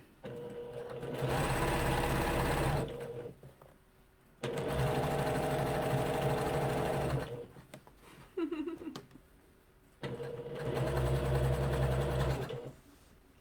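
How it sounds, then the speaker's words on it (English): A sewing machine topstitches a shirt a needle width from the edge, running in three long, even bursts of rapid stitching with short pauses, close by and loud, broken by brief quiet handling sounds. "I'm going to top stitch it a needle width away"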